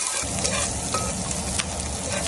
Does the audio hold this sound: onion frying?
yes